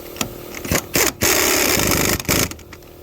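A MATCO Rex MT3779 air impact wrench rated at 1700 ft-lbs, running on 130 PSI, fires in repeated loud hammering bursts of varying length with short pauses between them, close to the microphone.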